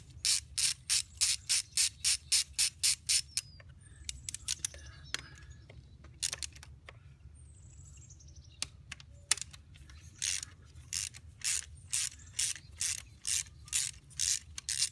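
Rapid ratchet clicking from loosening bolts on a VW/Audi 2.0T TSI engine during PCV valve replacement, coming in quick bursts of repeated clicks separated by brief pauses and a few scattered metallic taps, close and fairly loud with no talking.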